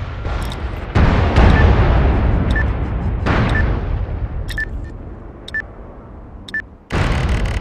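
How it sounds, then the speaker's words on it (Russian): Deep rumbling blasts in the online military shooter MAG, a heavy explosion erupting and rolling on for seconds, followed by smaller distant booms and sharp pings, then another loud burst at the close. "Вот на моих глазах взорвалось."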